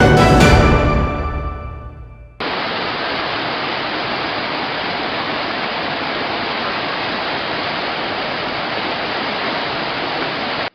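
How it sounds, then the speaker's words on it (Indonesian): The swollen Batu Merah river in Ambon rushes past at flood level, a steady broadband roar of overflowing water close by, heard alone after a brief unrelated sound fades out at the start. "Luapan sungai air besar Negeri Batu Merah"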